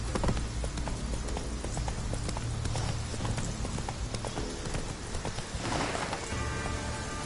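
Horse hooves gallop in The Witcher 3 in a steady, fast clip-clop rhythm over a loud, dense background of game ambience. A brief whinny sounds near the end.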